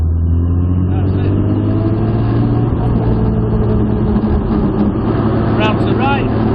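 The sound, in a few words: modified Jaguar E-type engine under throttle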